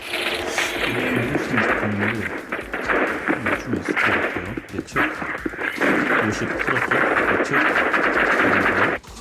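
Rapid gunfire bursts from the Roblox Rivals video game, repeated shots in quick clusters throughout, mixed under a voice talking over gameplay.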